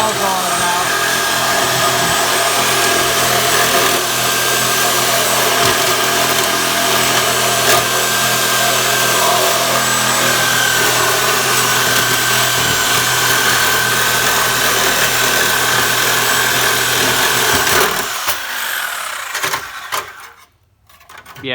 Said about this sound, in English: Trying to cut through the rust.